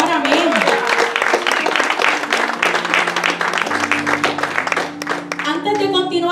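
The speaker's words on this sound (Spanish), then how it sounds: "Dale un aplauso al Señor, amén." A church congregation applauds during a sermon, a loud burst of clapping that runs under a preacher's voice and swells as music-like tones enter toward the end.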